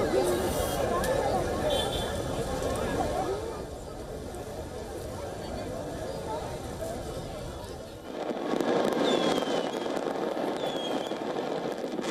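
Distant New Year's Eve fireworks crackle and pop over the murmur of a large crowd on Marine Drive promenade, with a few whistling rockets rising near the end.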